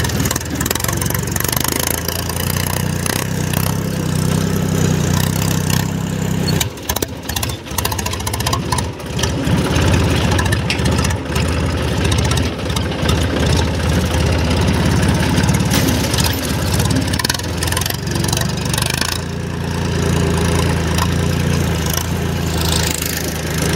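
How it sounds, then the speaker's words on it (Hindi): Massey Ferguson tractor with its damaged silencer removed idles loudly and close by, a rough continuous low rumble with uneven throbbing and occasional revs. "अभी अपने ट्रैक्टर में साइलेंसर थोड़ा डैमेज हो गया है तो निकाल दिया हूँ मैंने फ़िलहाल तो साइलेंसर, बिना साइलेंसर के भी ज़ोरदार मज़ा आता है।"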